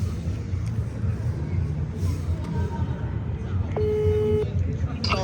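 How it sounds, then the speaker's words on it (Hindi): A mobile phone call on speakerphone gives one brief ringing tone, moderately loud, heard over a steady noisy background of crowd babble and room noise. "रिंगिंग।"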